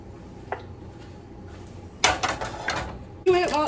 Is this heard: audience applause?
no